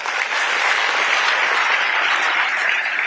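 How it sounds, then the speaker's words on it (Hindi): Strong, dense applause from the audience at a sports career seminar in Nagpur, loud and continuous from start to finish with no speech over it. "जोरदार तालियां बजती रहनी चाहिए"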